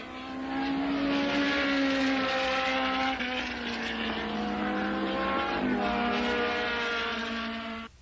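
Race cars roar past continuously in a racing sequence, a loud sustained engine drone with shifting pitch as the cars pass and recede, ending abruptly, with no talking.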